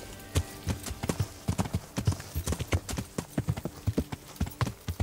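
Horse hooves clip-clop in a steady, fairly close rhythm on hard ground in Kingdom Come: Deliverance II, dozens of evenly spaced strikes over a soft background.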